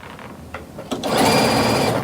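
A sewing machine stitches fabric at a work desk, starting after a couple of faint clicks and then running in a steady, close whirring burst for about a second, with no talk.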